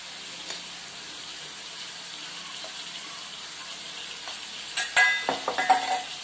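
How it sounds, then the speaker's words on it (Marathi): Ground masala paste added to a pan of Malvani-style crab curry and stirred in, with quiet sizzling under a few soft, wet stirring and scraping sounds toward the end, close by and without speech. "त्यात आपण आता हा वाटलेला मसाला आहे ना तो टाकते."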